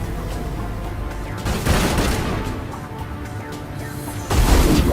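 Rapid bursts of gunfire in Mass Effect Legendary Edition, with dense overlapping shots and heavier blasts near the end, loud and continuous.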